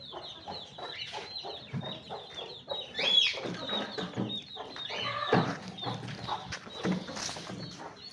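Chickens clucking continuously nearby, several birds overlapping with short rhythmic clucks and occasional louder squawks.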